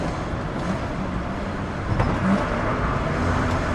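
Engine and exhaust of a BMW E46 330ci track car fitted with headers, a steady loud rumbling drone heard from inside while driving, with a slight swell partway through.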